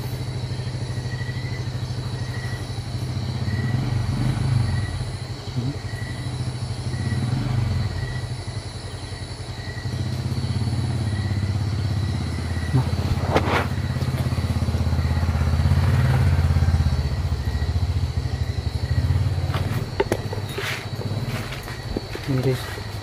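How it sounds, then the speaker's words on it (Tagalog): A motorcycle carrying two riders passes at a distance, a steady low engine drone running throughout with clattering and thumps, while people talk in hushed voices over it. "parang nagmumotor dalawang tao"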